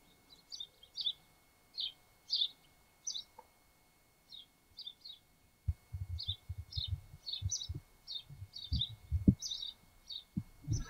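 Short bright chirps of a sparrow on a roof repeating in small clusters at a distance, later joined by low thumping sounds underneath.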